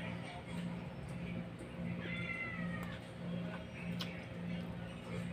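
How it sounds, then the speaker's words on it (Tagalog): A cat gives a single short meow around the middle, faint against a steady background hum with rhythmic low pulses and occasional ticks. "Kulit na itong pusa."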